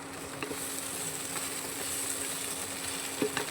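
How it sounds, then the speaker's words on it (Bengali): Soybean chunks sauté in a hot pan with a steady low sizzle and a few faint stirring scrapes, quiet and close, with no talking. "এটাকে ভালো করে আমি কষিয়ে নেব এর উপরে সোয়াবিনটাও দিয়ে দেবো"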